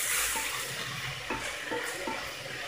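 Turmeric and garam masala being stirred into dal in a pan on the stove, with soft continuous sizzling and a few scraping stirs, close and fairly quiet.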